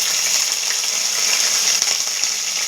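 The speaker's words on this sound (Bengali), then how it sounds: "আলু প্রায় ভাজা ভাজা হয়ে গেছে" Potatoes fry in a pan with onion paste, giving a steady close sizzle and bubbling hiss with a few faint clinks, no talking.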